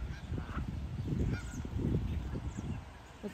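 Geese honk as a flock settles onto water outdoors, a continuous jumble of low calls and splashy wing noise with a few higher honks rising above it, fairly distant and steady.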